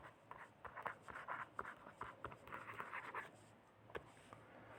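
Chalk or marker writing on a board during a periodic table lesson, quick faint scratchy strokes in bursts with short pauses, close and quiet.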